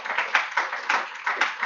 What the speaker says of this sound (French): Est-ce qu'on peut applaudir ce Dieu qui connaît nos enfants, qui voit tout de toi?